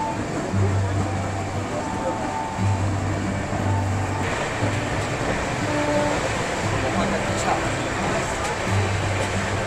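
The Howrah Patna Janshatabdi Express runs through Jharkhand with a steady, loud rumble and hiss of carriage noise, broken by repeating low rhythmic thumps of wheels over rail joints.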